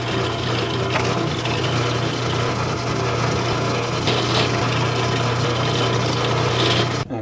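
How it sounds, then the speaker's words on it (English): A drill press runs a small bit through wood to pre-drill a guitar headstock, giving a steady, loud whirring grind that continues without a break over a low constant motor hum. "I'll take that to the drill press, doing about a 3/8 inch bit for this"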